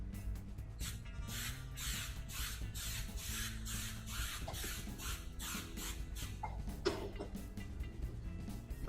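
Spray paint can laying a first light coat, a series of short hissing bursts repeated in a steady rhythm, fairly faint and close, with a few small clicks and rattles near the end.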